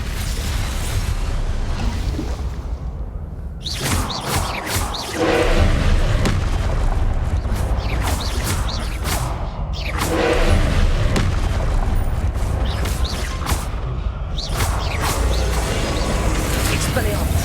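Blasting-spell explosions from the Hogwarts Legacy video game go off repeatedly, deep booms and bursts with whooshing sweeps recurring at intervals over a steady, dense game soundscape.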